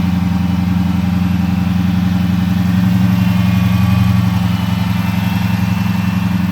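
A 2009 Dodge Charger R/T Hemi V8 fitted with a dual cold air intake and a Diablo tune idles loudly nearby, a deep steady rumble with a rhythmic lope throughout.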